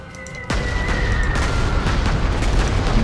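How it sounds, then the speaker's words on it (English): A bombing attack explosion in the World War II strategy game Panzer Corps 2, set during the 1942 Second Battle of Kharkov: one sudden loud blast followed by a sustained, heavy rumbling roar, with no talking. "Let's bomb this guy."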